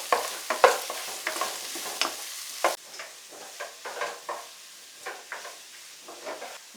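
Ginger-garlic paste and onions sautéing in a pan for chicken masala, heard as close irregular spatula stirs and scrapes over a light sizzle, fairly quiet.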